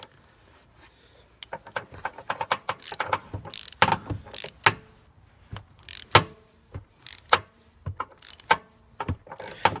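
Hand tap cutting new threads into a stripped spark plug hole in an aluminum cylinder head, close irregular ratcheting clicks and metallic creaks in short bursts with quiet gaps between turns.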